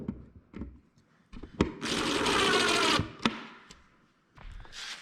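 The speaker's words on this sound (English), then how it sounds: "So now you just take one of these tiny screws that are provided and go right through this single hole, and that locks both brackets together." A tiny screw driven through a single hole to lock two cabinet brackets together, with a small power driver whirring steadily for about a second, framed by close clicks and knocks of handling, no voices.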